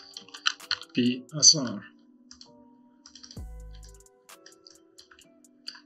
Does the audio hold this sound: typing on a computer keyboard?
yes